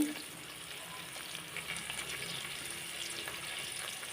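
Vegetables and spice paste fry in a pan for vegetable biryani, a faint, even hiss of sizzling oil running steadily throughout without distinct stirring strokes or voices.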